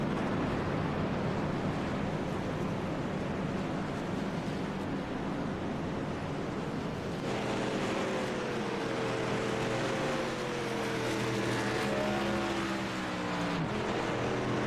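A pace car engine drones in the iRacing video game at Nashville Speedway, a broad steady roar that gains rising and falling engine tones partway through as cars pass close by.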